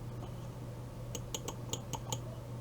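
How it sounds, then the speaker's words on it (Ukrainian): Six or so sharp computer mouse clicks come in a quick, slightly uneven run midway through, used while building a level in a paid copy of Geometry Dash, over a steady low background hum. "Надіюсь, ви не дуже чуєте класання мишки."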